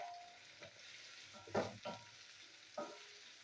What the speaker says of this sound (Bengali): তো পেঁয়াজটা আমি ভেজে নেবো।